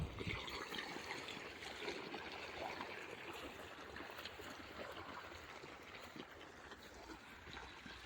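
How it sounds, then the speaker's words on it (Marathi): Irrigation water, drawn from a well, flows steadily onto a fodder grass field on a farm, a faint continuous rushing and trickling wash with no voices. "पाणी चालू केलंय"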